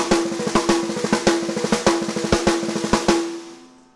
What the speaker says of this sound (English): Now if you speed it up, it sounds a bit like this.